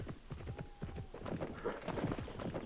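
A horse running through a forest in the video game Petz Horsez 2, rapid rhythmic hoofbeats at close range, steady and moderately loud, with no talk over them.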